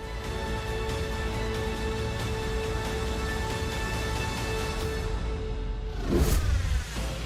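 A tuned Brabus 800 SUV drives past with a steady engine hum, swelling briefly louder as it passes close near the end, with no one speaking.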